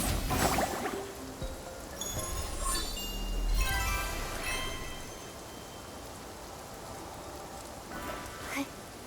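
Rain falls steadily in the video game Infinity Nikki, a soft constant hiss with a few brighter chiming tones drifting over it, no speech heard.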